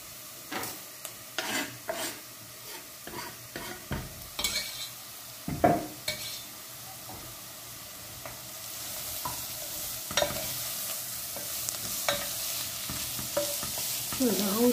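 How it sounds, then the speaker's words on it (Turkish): Carrots stir-fried in a pan for Turkish chicken noodle soup: a steady sizzle runs throughout while a utensil scrapes and taps against the pan in irregular strokes, close and fairly loud. "Şöyle havuçların da sarısı çıkana kadar kavuralım."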